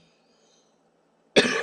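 One short, sharp cough bursts out near the end after quiet, from someone in a room with burning incense and poor air quality.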